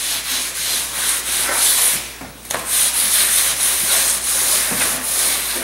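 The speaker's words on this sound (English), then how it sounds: "we're going to go over this with acetone" A cloth rubs acetone across a cast glass fiber reinforced concrete surface to strip wax release, giving loud close swishing, hissy wipes in repeated strokes with a brief pause partway through.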